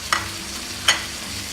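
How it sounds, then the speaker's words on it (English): Seasoned beef steak laid into hot olive oil in a frying pan, a steady close sizzle with two sharp spitting crackles. "So I'm adding the beef to the pan with the seasoned side down."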